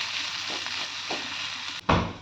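Chopped green chillies and masala sautéing for ghugni give off a loud, continuous sizzle up close, broken briefly near the end by a sharp clatter and a fresh burst of frying.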